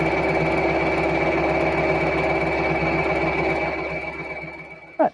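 A sewing machine on a long stitch setting runs a steady rapid needle rhythm while stitching jersey fabric tote bag handles. The whir is close and continuous, then slows and stops with a brief clunk at the end.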